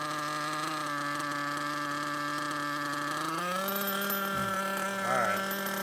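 A small engine on a break-in machine drones at a steady high pitch, then its RPM climbs and wavers as more throttle is applied, buzzing loudly without speech.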